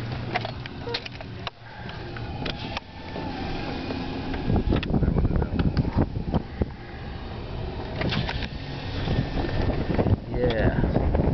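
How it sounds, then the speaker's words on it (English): Strong wind buffets and rushes steadily through an open car window, loud and close to the microphone, a constant roar with a few faint voices underneath. "Too windy. Let's roll the window down."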